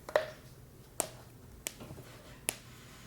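Sharp cracking pops from knees, both at the same time, a few faint isolated clicks spaced across a quiet room.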